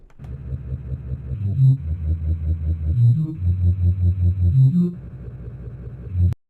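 A deep synthesized bass line plays a pulsing, rhythmic pattern of low notes with short pitch slides, ending abruptly with a click.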